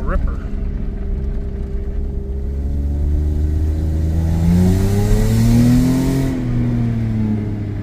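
A Toyota Supra engine revving while driving, a loud, close, rumbling drone whose pitch climbs steadily and then eases off near the end.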